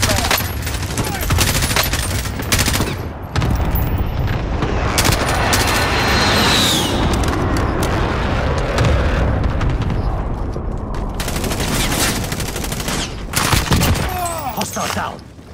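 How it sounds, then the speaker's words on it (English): Explosions and bursts of gunfire from an airstrike in a shooter video game, dense and continuous throughout with repeated booms and rapid firing, with game voice callouts mixed in. "friendly precision airstrike inbound"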